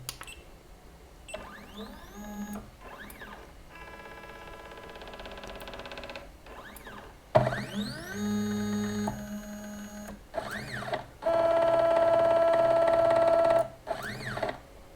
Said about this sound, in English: now we're gonna start the homing process